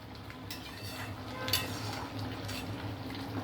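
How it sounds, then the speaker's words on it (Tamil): Roasted semolina being stirred into boiling water for upma, with a low, steady scraping and bubbling in the pot and one brief louder clink of a utensil midway. "இந்த ரவையை இதில் போட்டு அப்படியே கலர வேண்டும்"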